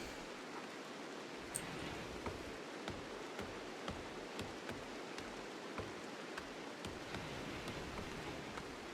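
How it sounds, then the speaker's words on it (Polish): Rain falls steadily in the video game RimWorld, a soft continuous patter with faint scattered droplet ticks at a low, even level. "Kolejny dzień pada deszcz"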